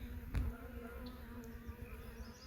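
Honey bees buzz around a hive frame in a dense, steady hum up close, with a soft thump near the start.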